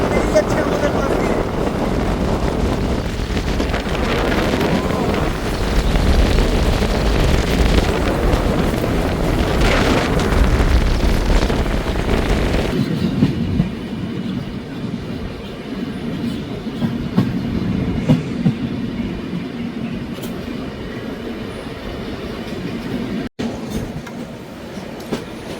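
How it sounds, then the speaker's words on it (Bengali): A Secunderabad special train rushes past alongside a moving Humsafar Express, with a loud, steady roar and rattle of wagons for about thirteen seconds before fading to quieter rolling clatter. "সেকেন্দ্রাবাদ স্পেশাল ট্রেন বেরিয়ে যাচ্ছে আমাদের পাশ দিয়ে।"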